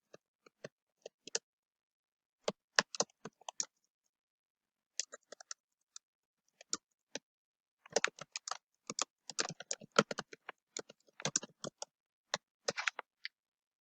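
Typing on a computer keyboard, heard as sparse, quiet key clicks that come in short scattered bursts, then a denser run of rapid keystrokes, all in an otherwise silent room.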